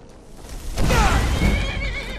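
Horse in the video game Skyrim gives a loud, wavering whinny during a battle, with galloping and game noise rumbling underneath, no voices over it.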